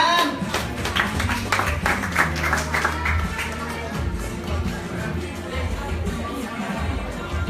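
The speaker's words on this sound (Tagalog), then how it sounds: "Palakpak naman kayo dyan!" A live audience at an M Global talent event in the Philippines claps in sustained, dense applause with crowd noise and cheering, steady and loud for several seconds.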